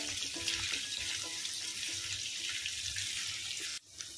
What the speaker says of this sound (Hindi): यहाँ पे मैंने सभी पनीर पीसेस जो है वो घी में डाल दिया है